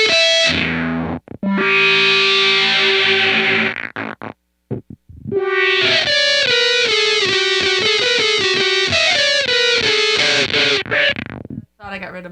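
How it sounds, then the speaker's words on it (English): Cooper FX Arcades synth card running through a pedal, giving a loud, buzzy synth tone with detuned warble, with a held note, then a burst of rapid stepping melodic notes that cut off abruptly at the end. "So it actually sounds like a synth, because that warble is such a key part of the synth."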